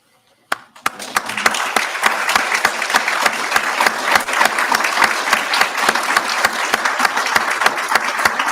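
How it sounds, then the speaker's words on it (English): A standing ovation at a funeral tribute: sustained, dense applause from a room of mourners that starts abruptly and carries on at a steady, loud level throughout. "please join me in a final standing ovation for our friend, Karl Barbee"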